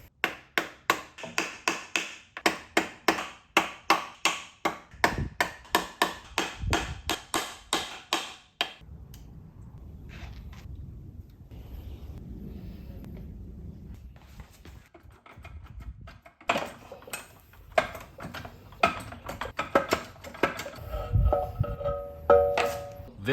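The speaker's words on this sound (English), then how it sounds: "try to find overhangs like this here. There's some overhangs here to actually go in, tap off this casing with the screwdriver" A screwdriver taps and pries at the aluminium gear housing casing of a Lamborghini Gallardo transmission, giving rapid bursts of sharp metallic ticks and clicks with a quieter stretch of low rustling in between.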